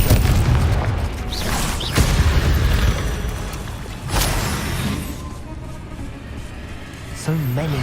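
Confringo fire spells in the video game Hogwarts Legacy burst in repeated booming explosions, with sharp blasts near 2 and 4 seconds over a constant rumble of game sound, and a voice comes in briefly at the end.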